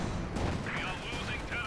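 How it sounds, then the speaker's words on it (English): Cannon fire from the Company of Heroes 2 strategy game, Soviet against OKW forces, thuds in heavy booms under a dense battle soundscape while a commentator keeps talking over it. "Third hit from the cannon"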